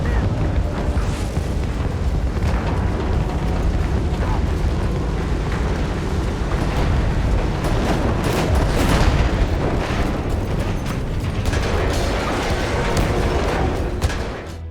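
Vehicle destroyed in the video game Battlefield 6: dense, sustained explosive booms and crackling blasts rumble continuously and loudly, with debris-like bursts layered throughout.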